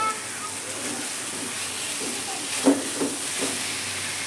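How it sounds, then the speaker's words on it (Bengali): Whole green chillies fry in hot oil with potatoes and spices for a Bengali rui fish curry, a steady close sizzle with a few soft stirring knocks near the end. "এবার দিয়ে দিলাম বেশ কিছু কাঁচা লঙ্কা, গোটা কাঁচা লঙ্কা।"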